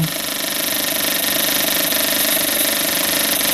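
A small engine runs steadily at about 1,500 RPM on its injector circuit, a loud, continuous mechanical drone with a rapid, even pulsing and no pauses.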